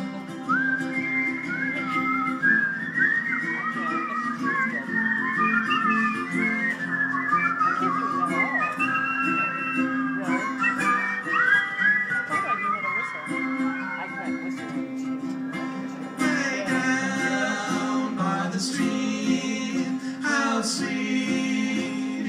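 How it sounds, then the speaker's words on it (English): An audience whistles along to a live performance of a song, a wavering chorus of many whistles carrying the melody over guitar accompaniment, with singing voices joining later. "Everybody whistle."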